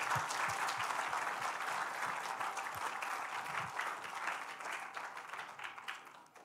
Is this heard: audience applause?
yes